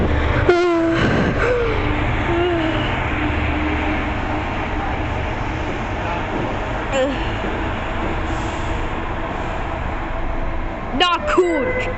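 An MBTA commuter rail train rumbles through Quincy Center station, sounding its horn in short blasts near the start and again near the end over a steady rolling roar, while people talk nearby.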